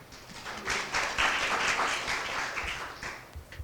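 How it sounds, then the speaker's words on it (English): A conference audience applauds to welcome a presenter at a business exchange session, a steady wash of many hands clapping at moderate distance, swelling briefly and then tapering off. "Please welcome him with a big round of applause."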